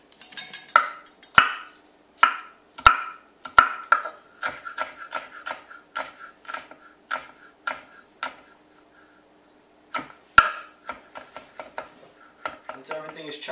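A knife chops garlic on a cutting board in a series of crisp, close, rhythmic taps, with a short pause before the chopping resumes. Faint talk can be heard in the background.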